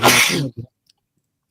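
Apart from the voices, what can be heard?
sneeze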